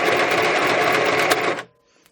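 A sewing machine runs a continuous burst of stitching on a junk journal pocket, a fast buzzing chatter lasting about a second and a half before stopping abruptly, close and loud.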